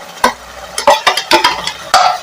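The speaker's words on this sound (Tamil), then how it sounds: "நல்ல வெங்காயம் வந்து ஃப்ரை ஆயிடுச்சு பாருங்கள்" Spatula scraping and stirring onions in a pan with a light sizzle underneath, several sharp strokes in irregular rhythm, close and fairly loud.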